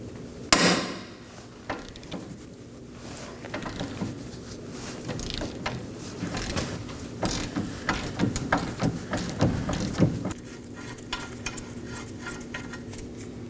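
A suspension bolt is worked loose from the lower control arm of a 2018-2024 Chevrolet Equinox, with a sharp metallic clank followed by a run of scattered ticks, taps and ratchet-like clicks, close by and moderately loud.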